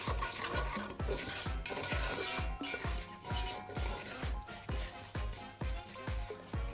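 Vermicelli frying in a pot for Egyptian koshary is stirred with a spoon, giving a rhythmic series of scraping strokes about twice a second over a soft sizzle, close and moderately loud, with no talk.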